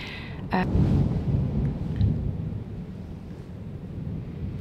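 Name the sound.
thunderstorm thunder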